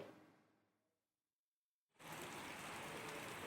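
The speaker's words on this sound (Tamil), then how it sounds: "தூத்துக்குடி மாநகர பகுதிகளில் தொடர் கனமழை பெய்தது." Heavy rain pours over Thoothukudi in a close, steady broadband hiss that cuts in abruptly after a fading stretch and a moment of near silence.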